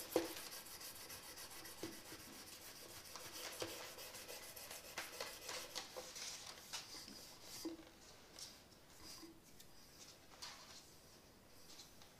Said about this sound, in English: just take some 600 grit sandpaper to start with. and plow through that stuff.